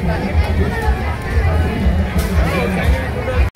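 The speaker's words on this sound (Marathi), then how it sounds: "आता गर्दी आहे खूप आता इथं" A dense crowd mills around at the Khandeshwari village fair, giving a steady babble of many voices and general bustle close by that never lets up.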